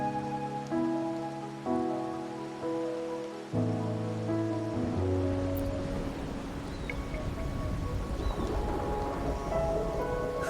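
Rain at night in the video game Wuthering Waves, a soft continuous patter of raindrops that rises to a dense hiss after gentle sustained musical tones fade out midway.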